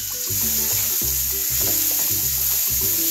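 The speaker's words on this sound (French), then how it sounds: "Et on va faire revenir le tout avec la cuillère en bois" Sliced onion sautéing in a pan while a wooden spoon stirs it, giving a steady close sizzle with rhythmic low scraping pushes repeating roughly every half second.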